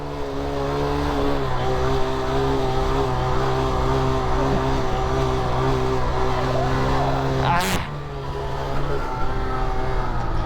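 A Honda Grom motorcycle engine drones loud and close, holding a sustained high rev during a wheelie, then dips briefly and picks back up.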